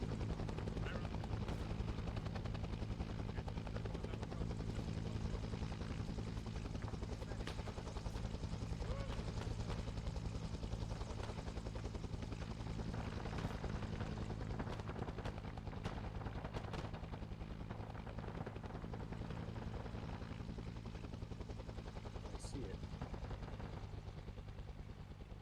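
Apache helicopter squad and gunfire in a video game battle: a steady, loud rotor drone with scattered shots and bursts of fire running throughout, while players talk over it.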